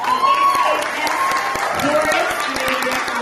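Audience applause at the ACHS school winter concert after the chorus performs, a steady patter of many hands clapping together, with a voice talking over part of it.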